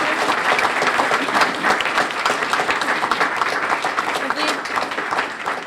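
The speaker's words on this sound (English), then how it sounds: "Give a round of applause." An audience at a 40 under 40 panel event gives a round of applause, dense, continuous clapping with voices talking over it.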